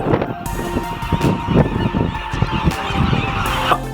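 A flock of seabirds near Alcatraz honking and calling over one another, busy and continuous, with some wind buffeting the microphone.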